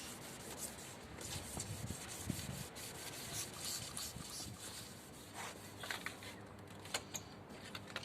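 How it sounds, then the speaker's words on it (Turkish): Steady, faint scratchy rubbing of fine 1500-grit sandpaper on a yellowed car headlight, continuous strokes with slight swells, no voices. "Şimdi 1500'lük zımparamızdan zımpara işlemine devam ediyoruz."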